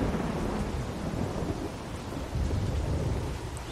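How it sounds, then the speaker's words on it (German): A heavy thunderstorm rumbles steadily in The Walking Dead video game, with deep rolling thunder and dense rain noise filling the whole stretch with no voices. "Was für ein Gewitter auf einmal."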